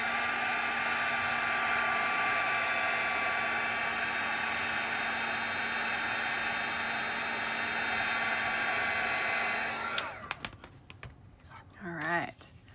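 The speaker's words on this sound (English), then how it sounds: "if you flip this guy over and you set it with your heat tool for just a few seconds" A handheld heat tool blows steadily on curled watercolor paper, a loud continuous whirring roar with a faint whine that runs for about ten seconds, then cuts off, leaving a few small handling taps and a brief voice.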